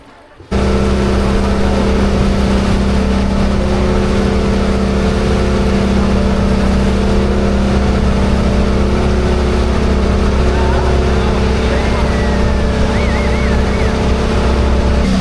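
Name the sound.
boat engine running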